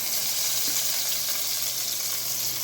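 Lamb chops searing in a hot pan, a steady dense sizzle that runs without a break and sounds close.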